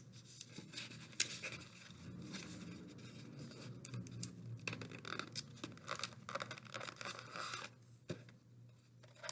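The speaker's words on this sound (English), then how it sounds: "I'm going to use tape today, and we're going to tape her helmet right around." Tape is pulled and wrapped around a small paper craft fire helmet, faint close crinkling, scratching and tearing sounds in an uneven rhythm with no speech.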